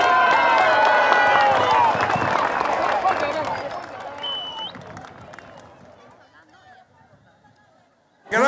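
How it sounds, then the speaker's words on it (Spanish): Crowd applause for Peruvian President Pedro Pablo Kuczynski at an outdoor event in Arequipa, dense clapping and cheering under an announcer's voice, fading gradually over several seconds before a new burst. "¡Fuertes palmas!"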